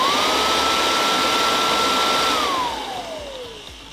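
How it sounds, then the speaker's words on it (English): Kirby Classic III vacuum cleaner with its drill attachment running close by: a steady loud motor whine that holds pitch, then winds down and fades toward the end, with no talk. "then you've got your drill attachment"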